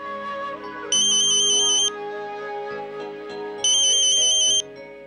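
A phone ringtone chirps in two short repeated bursts of high electronic tones, separated by a gap, over quiet background sound.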